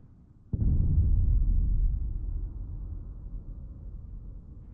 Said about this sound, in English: The sound of the boom at ground level taking longer to reach the observer once the plane had passed by.